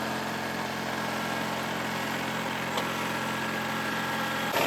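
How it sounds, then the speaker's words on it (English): A Kubota tractor engine idles in a steady, even drone close by, holding constant for several seconds with a slight bump near the end and no speech. "This is idle right here"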